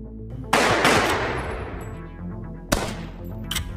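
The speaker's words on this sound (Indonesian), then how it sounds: "dan langsung menembak mati si serif." Gunshots from a film, a loud close burst of rapid fire followed by ringing decay, then a second sharp shot and a quieter one, without talking.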